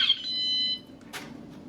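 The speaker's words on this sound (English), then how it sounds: "if we put it on the outside of the van and arm it, you'll see how powerful it is as an alarm" A van alarm mounted on the outside of a van gives a short, shrill electronic tone briefly at the start, then cuts off, leaving quiet background with a faint rustle.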